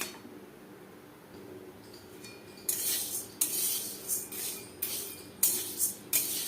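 A utensil scrapes and clinks against a pan as lentils are stirred while dry-frying, with a quiet start followed by a series of sharp, regular metallic strokes close by.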